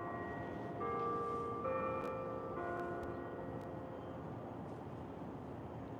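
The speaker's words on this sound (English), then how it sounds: "those are the 5:30 bells" Church-style bells from the San Francisco Ferry Building ring out a slow sequence of tones, heard from a pier over steady wind noise, moderately distant, then fade into the background hush.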